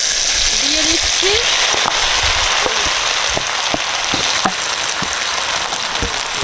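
Spiced dal tossed into hot oil tempered with cumin, a loud dense crackling sizzle like heavy rain, steady throughout with sharp pops scattered across it and a short whistling tone early on.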